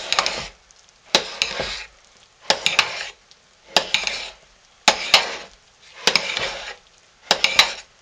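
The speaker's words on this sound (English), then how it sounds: "And you just keep twisting and stirring, and it will just soak it up." Homemade lye soap mixture being twisted and stirred in a pot, seven evenly spaced bursts of scraping and clinking about a second apart, each separated by a brief quiet gap, close and moderately loud with no voices.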